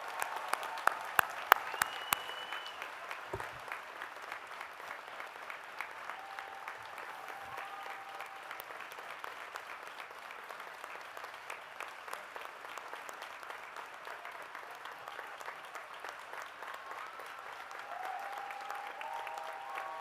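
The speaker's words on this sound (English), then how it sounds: "so let's give him a round of applause." Outdoor crowd applause at a college commencement ceremony, a few sharp nearby claps at first, then a long, steady, distant patter of clapping that carries on for many seconds with faint voices over it.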